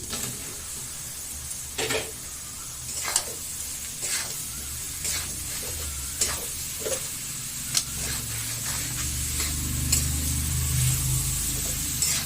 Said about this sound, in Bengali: মাশরুমটা ভালো করে ভেজে নেব